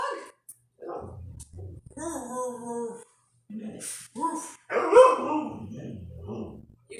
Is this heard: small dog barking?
yes